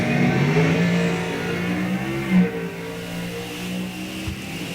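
A 1999 Pontiac Firebird and a 1974 Pontiac GTO in an NHRA drag race, engines roaring loud and close in a sustained, rising drone with a brief surge near the middle.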